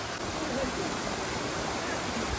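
Rushing water of the Dhareda waterfall, a constant broad roar filling the scene at close range, with faint voices barely showing underneath.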